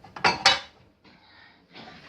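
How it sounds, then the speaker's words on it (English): Metal pans clank and clatter as they are handled and set into a plate rack in a home kitchen, two loud knocks followed by softer scraping and rattling. "Keep all my pans on one of these plate racks."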